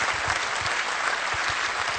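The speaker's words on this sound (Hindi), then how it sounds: "जिंदगी जीनी है तो बजाओ ताली मेरे साथ" Steady applause from a live audience fills the whole stretch, dense and even, with no talking over it.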